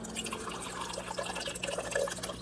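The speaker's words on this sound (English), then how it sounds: "I can hear it filling up in there." Quiet trickling and gurgling of water filling a newly installed KitchenAid KRSF705HPS04 refrigerator water filter, with faint drips, bubbling and air escaping throughout, no talking.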